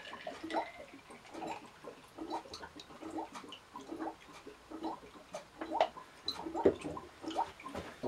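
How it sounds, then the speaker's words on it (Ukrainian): White grape juice is poured into a measuring cup for homemade wine, giving a faint, soft trickle with light splashes and small knocks throughout, quiet and close. "Набравши невелику кількість виноградного соку, я наливаю його у вимірювальний стакан."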